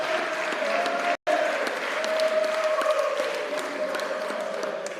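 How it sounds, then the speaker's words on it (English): A crowd at a high school National Signing Day ceremony gives a sustained round of applause for a student headed to Lafayette College, steady clapping that fills the room and briefly cuts out before resuming. "Big round of applause for Jake."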